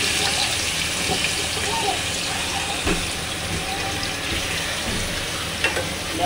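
Goat liver pieces frying in a pan, a steady loud sizzle and hiss with some watery bubbling and occasional clinks, heard close up.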